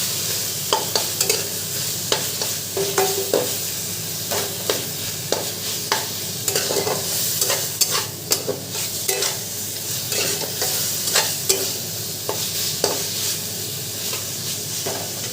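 Leafy greens and lentil dumplings (bori) stirred in a hot pan: a continuous loud sizzle broken by repeated scraping and clattering strokes of the spoon, close up, with no voices.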